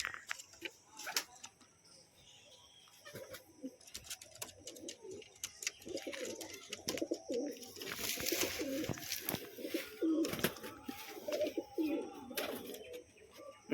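A pair of banded Teddy pigeons coo in low, repeated bursts at close range, with a few chirps and light wing rustles mixed in and quieter gaps between the calls.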